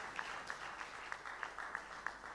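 Steady applause from a crowd at a launch party, a broad wash of clapping with occasional sharper individual claps standing out, continuous through the moment.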